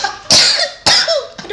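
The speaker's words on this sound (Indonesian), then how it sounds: "Aduh batuk." Two sharp, loud coughs close to the microphone, followed by a softer third cough, with no talking.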